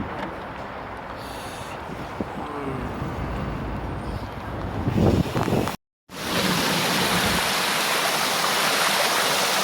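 Water flows steadily through a snowy, freezing outdoor spot in Seoul, a broad continuous rush that drops out briefly partway and then returns louder and fuller; no talking.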